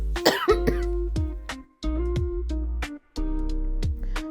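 A person coughs several times in short, hoarse bursts close to the mic, with a steady background hum from air conditioning throughout.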